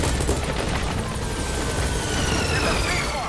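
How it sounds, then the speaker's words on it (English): A helicopter in the Metal Gear Solid V game, a dense, loud rotor-and-engine roar mixed with gunfire-like bursts of battle noise, continuous and close. "So we'll call the helicopter back to our landing zone."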